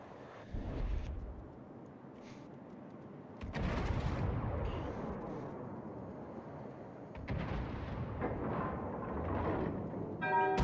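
Naval gunfire from World of Warships as enemy cruisers fire on a destroyer, with heavy booming salvos near 0 s, 3.5 s and 7 s, each rolling into a long rumbling tail under sustained low roar.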